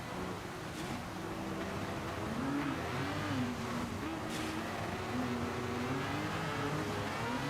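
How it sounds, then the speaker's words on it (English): A Mazda race car in Gran Turismo 7 spins its wheels on a wet Spa track, its engine note wavering up and down steadily under a continuous wash of road noise, with no talking. "You can hear the Mazda getting a lot of wheel spin as well."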